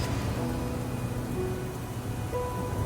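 Torrential rain pours on a mountain, a steady dense wash of rainfall with a faint low rumble beneath and thin tonal whines drifting through, no voices.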